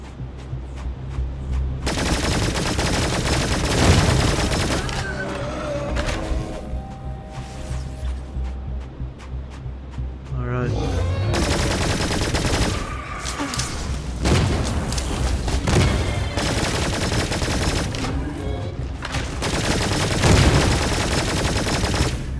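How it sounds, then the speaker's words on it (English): A minigun fires in sustained, roaring bursts at enemies in Cygnus Enterprises, loud continuous gunfire with booms and impacts, broken by short pauses between volleys. "So using the minigun against these enemies"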